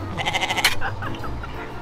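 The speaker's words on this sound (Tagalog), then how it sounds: "Kambing!" A goat bleats in one wavering, tremulous call at close range on a trip to Tagaytay, followed by quieter background sounds.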